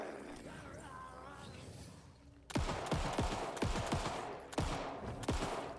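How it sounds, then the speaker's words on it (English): Gunfire in the video game Alan Wake 2: after a quieter stretch, loud rapid bursts of shots erupt in clustered volleys that repeat several times toward the end. "Just gunshots off in the distance."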